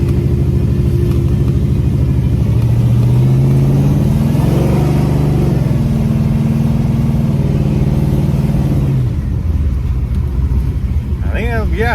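A Chevrolet Impala SS with a rebuilt 4L60E automatic transmission accelerates hard, its engine note climbing and dropping as the gearbox shifts, the rumble loud and close before easing off near the end.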